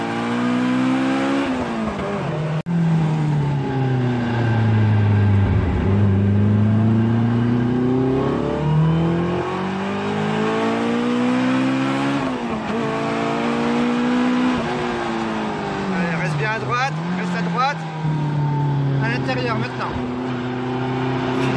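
A Caterham race car on the Croix-en-Ternois circuit roars loudly and continuously, its engine note dipping through corners and then climbing again as it accelerates out, with a coaching voice talking over it throughout.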